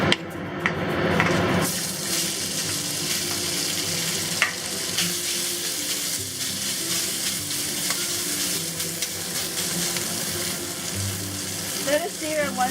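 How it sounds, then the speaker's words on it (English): Beef pieces searing in hot oil in a pan over medium-high heat, a loud continuous sizzle after an initial burst, with scraping stirs and occasional clatter toward the end. "And we're going to cook the beef first."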